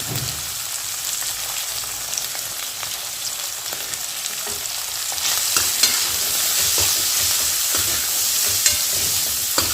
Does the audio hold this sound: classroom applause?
no